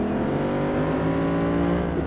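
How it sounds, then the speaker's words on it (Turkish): Ford Mustang engine held at half throttle, a steady, even, moderately loud hum with a constant pitch throughout. "Bakın şu an yarım gaz basıyorum."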